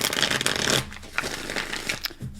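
Cards riffle and slide in a quick shuffle, close up, followed by softer rustling and handling sounds.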